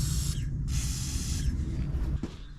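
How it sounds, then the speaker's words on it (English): Two short bursts of WD-40 aerosol spray hiss from a can, near and moderately loud, over a low rumbling background. "Time to spray some WD-40."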